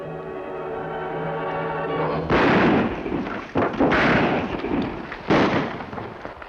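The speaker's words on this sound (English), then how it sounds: "Gunfire, Kemo Sabe." Several loud gunshots crack out one after another, sharp bursts with echoing tails, following a sustained musical tone.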